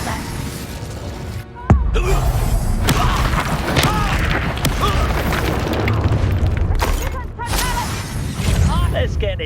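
A fire spell goes off in Hogwarts Legacy with a sudden booming burst, followed by sustained crackling and roaring combat noise mixed with magical whooshes and voices.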